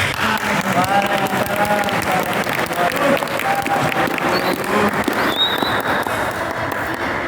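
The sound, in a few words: applause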